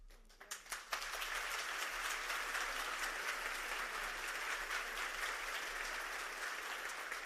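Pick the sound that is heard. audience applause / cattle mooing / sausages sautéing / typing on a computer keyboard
audience applause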